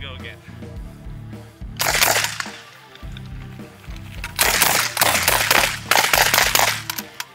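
A 12-gauge revolver shotgun loaded with birdshot fires several loud, sharp blasts in an irregular sequence, with mechanical handling sounds and a voice in between.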